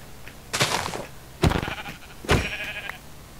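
Sheep in a video game bleat three times in short separate calls, loud and close against a quiet background.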